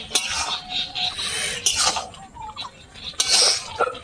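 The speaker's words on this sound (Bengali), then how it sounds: "এই দেখুন, একটু নেড়ে দেবো ভালো করে।" A spoon scrapes and clinks against a pot while cooked taro leaves are stirred, in a few short bursts of metallic scraping with quiet pauses between them.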